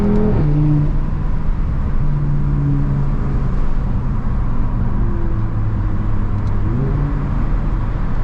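Audi RS3 with a loud Daza exhaust driving through Boston streets, a steady throaty engine drone with shifting pitch as it accelerates and eases off, continuous and close throughout.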